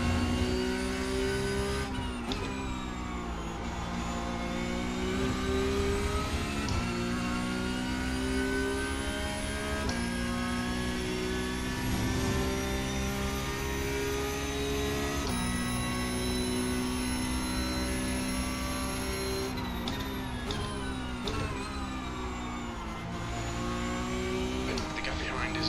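Porsche Cup race car in iRacing at Monza: a steady, loud engine drone with rising and falling harmonic pitch through gear changes, continuous throughout with someone talking over it.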